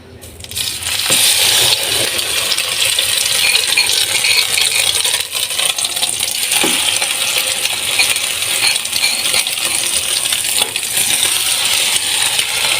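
Bread pieces fry in a little oil in a pan, a loud, dense crackling sizzle that runs continuously with faint scraping clinks mixed in.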